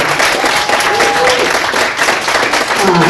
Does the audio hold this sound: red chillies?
no